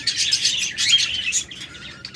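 Pet lovebirds, budgerigars and cockatiels chirp in bright, overlapping bursts of tweets, close and fairly loud, with short pauses between flurries.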